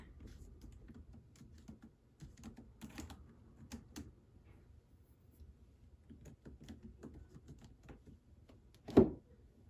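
Typing on a laptop keyboard of an HP Stream 11, scattered quiet key taps in short bursts with pauses, ending in one louder clack near the end.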